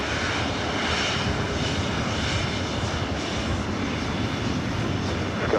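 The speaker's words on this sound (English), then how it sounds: "Flight heading to Minneapolis, 737-900ER, followed by Speedbird" A Boeing 737-900ER jet at LAX airport produces a steady, moderately faint broadband engine roar heard from a distance, unchanging across a few seconds.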